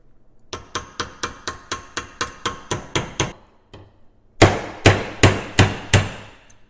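Hammer blows flaring a rusty old brake line on a Triumph Spitfire: a steady run of about nine sharp metallic strikes, a short pause, then six louder, ringing hits, close up and with no talk.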